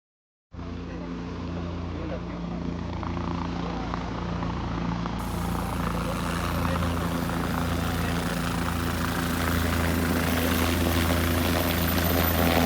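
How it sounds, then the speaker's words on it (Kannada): Helicopter ride at the Karkala festival, heard from inside the cabin: a steady, loud rotor and engine drone with a low pulsing hum that holds for the whole stretch after a sudden start, with no talk over it. "friends helicopter ride super ಬಿತ್ತುಂಡು"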